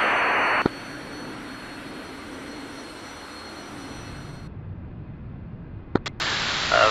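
Inside the DCS combat flight game, a jet aircraft engine whines and roars steadily as it comes in to land. The sound shifts abruptly partway through and ends with a couple of sharp clicks and a burst of static.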